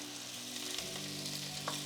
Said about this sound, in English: Add the cut red pepper. So I'm going to put the red pepper in.